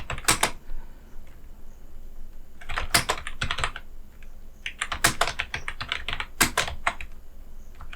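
Computer keyboard typing while entering a numbered list in Microsoft Word: bursts of quick, close key clicks in short clusters separated by brief pauses, with no talking.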